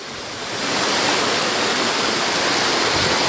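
Water rushes loudly and steadily at the Kapuzbaşı waterfalls, a dense continuous roar that swells in during the first half second and then holds, with no voices.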